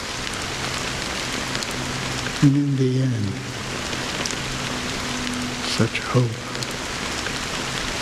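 Steady rain patters in the video game Honkai Star Rail as a soft, continuous hiss beneath a voice that speaks briefly over it.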